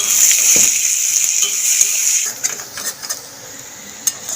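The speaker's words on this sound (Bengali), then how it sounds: "একটুখানি নুন দিয়ে দেবো তাতে তাড়াতাড়ি ভাজা হয়ে যায় আর পেঁয়াজটা সেদ্ধ হয়ে যায়" Onions frying with a little salt in a pan, a steady hiss that eases after about two seconds into softer crackles and a few clinks.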